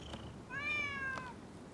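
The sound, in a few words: stray cat meowing in video game Rise of the Ronin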